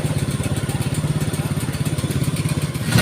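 Motorcycle engine idling and putting along in a steady pulsing thrum, close by, as the bike is ridden onto a small ferry boat at a river crossing in Taeng, Gowa.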